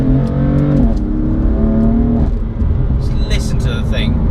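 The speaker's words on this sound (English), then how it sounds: "You've got a stone exhaust system, which sounds biblical," A BMW M4 fitted with an aftermarket exhaust revs close by, its engine note rising and falling with deep harmonic drone, heard under someone talking.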